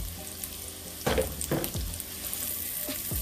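Onions fry in a non-stick pan with a soft, continuous sizzle, broken by a few short stirring or scraping sounds close by.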